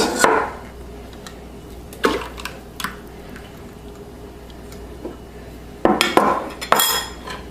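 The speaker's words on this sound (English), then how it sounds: "Give it a quick stir." Eggs and yeast are given a quick stir in milk: scattered clinks and scrapes of a utensil against a bowl, with a few louder knocks near the start and end and quieter stretches between.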